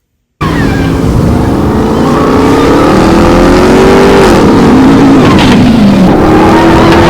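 A current-generation Ram TRX pickup truck engine revs hard and loud, throaty and climbing in pitch, eases off, then surges again, close up and continuous after a brief silent start.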